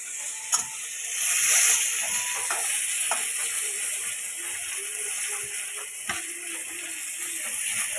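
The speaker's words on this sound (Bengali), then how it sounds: "আর এই সাইডে এরকম মাছ ভেজে নিচ্ছি।" Small puti fish rubbed with turmeric and salt fry in a wok beside a pot of boiling rice, giving a soft steady sizzle with occasional clicks and ticks and no talk.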